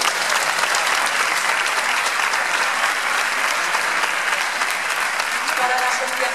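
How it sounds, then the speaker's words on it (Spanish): Loud, dense applause from a large audience at a charity gala of chirigota performers raising funds against cancer, a steady roar of many hands clapping throughout with no pauses. "vaya para todos ellos este fuerte aplauso"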